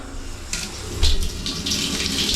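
Water running steadily from a tap at a service place in northern Norway, a constant hiss and splash that strengthens partway through, with a few small clatters over the flow.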